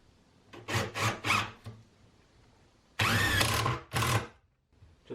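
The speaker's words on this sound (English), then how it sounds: "So I'd like to go ahead and attach this with some 2-inch screws here." A power drill drives 2-inch screws into a wooden shop shelf, with several short whirring bursts followed by longer sustained runs and pauses between them, close and fairly loud.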